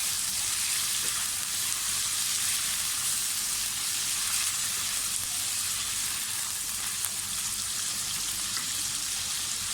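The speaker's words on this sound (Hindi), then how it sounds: "चिकन को इतना फ्राई करें कि इसका कलर चेंज हो जाए।" Chicken pieces frying in a pan, giving a steady, loud, close sizzle with crackling spatter throughout and no talking.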